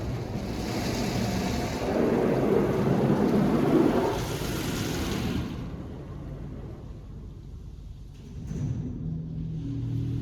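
Inside an automatic PDQ LaserWash 360 Plus car wash, a rinse sprays a car with a broad, rushing hiss of water that swells, drops away, then returns more quietly.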